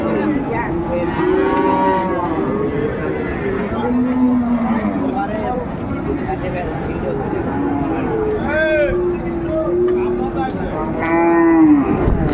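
A Sahiwal bull at a busy cattle market gives repeated loud, drawn-out moos, some rising and bending in pitch, over constant crowd chatter and someone talking nearby.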